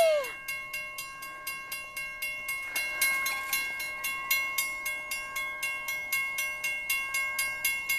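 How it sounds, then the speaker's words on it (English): A Christmas train rolls past on a freezing night with steady, rhythmic clickety-clack from the wheels, and a tonal horn sounds over the clatter. "But it's the Christmas train."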